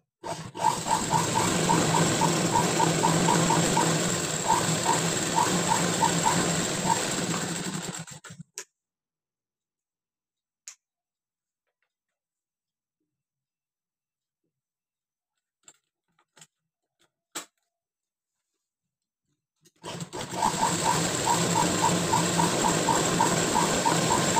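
A sewing machine stitches a baby girl's fancy blouse, running at a steady rapid hum for about eight seconds, stopping into near silence with a few faint clicks, then starting up again loudly near the end.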